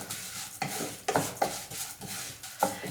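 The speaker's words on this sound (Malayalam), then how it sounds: "ഇനി സെയിം നെയ്യിലേക്ക് തന്നെ ഞാൻ 1/2 കപ്പ് സേമിയാണ് കേട്ടോ ചേർത്ത് കൊടുക്കുന്നത്. ഇത് നമുക്ക് റോസ്റ്റ് ചെയ്തെടുക്കാം." Vermicelli being stirred and roasted in ghee in a pan, with soft scraping strokes repeating every half second or so over a faint sizzle, quiet and close, with no talking.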